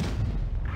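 Tank cannon shot from an AMX 30 B in WoT Blitz, a single short, loud, deep boom.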